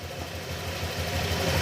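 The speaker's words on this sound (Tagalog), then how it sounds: "nawala yung garalgar ng makina. Puro yung lagitik." A motorcycle engine idles after a timing chain tensioner repair, with grinding gone and only a light ticking left, producing a steady, close, low mechanical drone with no talking.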